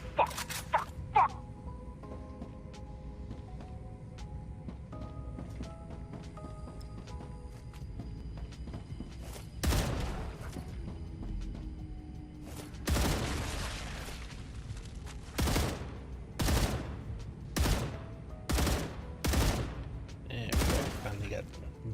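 Gunfire from a first-person video game shooter, heard as a series of sharp, loud shots, spaced out and then coming faster in the second half over a steady game ambience.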